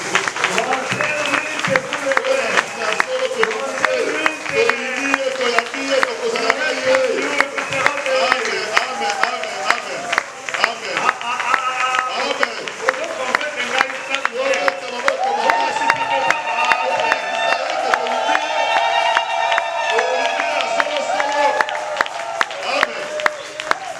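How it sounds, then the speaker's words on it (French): Church congregation at a seminar standing to applaud, rhythmic clapping with cheers and raised voices, a loud lively mix that carries on throughout. "Nous allons nous tenir debout pour applaudir le Seigneur"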